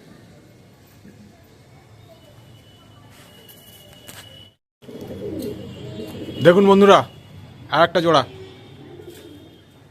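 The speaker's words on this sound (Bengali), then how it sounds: "এটা চেন্নাই ব্রিডের পায়রা দাদা, চেন্নাই বিট" Chennai breed pigeons coo in two short, throaty bursts near the end, close and clear, after someone talks quietly over a faint room hum.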